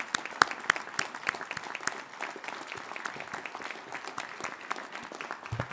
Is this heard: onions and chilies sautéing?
no